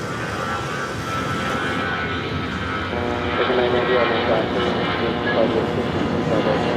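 A Boeing 777-200ER airliner in oneworld livery at LAX gives off a steady, loud jet engine roar that swells slightly partway through, heard from a distance with a voice talking over it.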